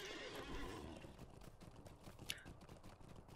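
A horse neighs and whinnies as a character rides out in the online game Lord of the Rings Online, with hoof clip-clops and game sounds running steadily alongside at moderate volume.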